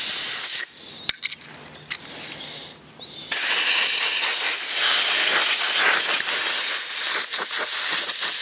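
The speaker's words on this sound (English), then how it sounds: "it's time to blow it out and try to blow it out in the opposite direction of the airflow" Compressed air blasts through a tractor's air filter against its normal airflow, starting with short hissing bursts and clicks, then settling into a loud, continuous close-up rushing hiss.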